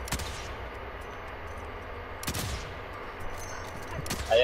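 Gunfire in Call of Duty Warzone battle royale, a few loud, sharp bursts of shots spaced apart over low background game noise.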